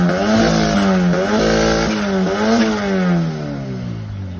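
A turbocharged K24 engine in a modified owner-type jeep revs hard, the pitch climbing and falling through several loud blips close by, with no talking.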